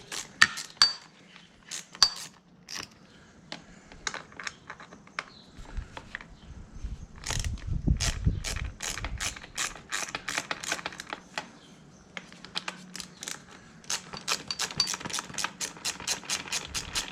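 Ratchet loosening crash bar bolts on a KTM 1290 SAS motorcycle, heard up close as rapid bursts of sharp metallic clicks and clinks that come and go, with a brief low rumble midway and no voices.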